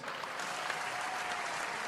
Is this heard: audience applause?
yes